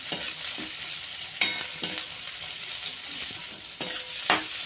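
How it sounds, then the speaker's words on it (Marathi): Onions sizzle in a wok while a spatula scrapes and stirs in irregular strokes, the frying hiss continuous throughout. "मग आपला कांदा पण टाकून झालाय कढईमध्ये छानपैकी असं मिक्स करून घेऊ आपण"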